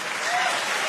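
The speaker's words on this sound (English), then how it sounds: "Ladies and gentlemen, a big round of applause." Audience applause at a GLORY kickboxing event in Stockholm, a dense, steady wash of clapping from a large crowd, loud and sustained with no breaks.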